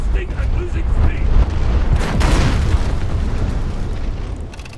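A torpedo launches during a naval battle in War Thunder Mobile, heard as a loud, dense rumbling whoosh with a swell of noise midway, with game voices over it.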